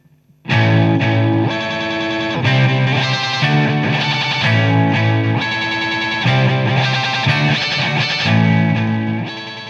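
Electric guitar played through a TC Electronic Plethora X1 multi-effects pedal, a loud sustained distorted tone with modulated, shimmering chords changing every second or two, no voices.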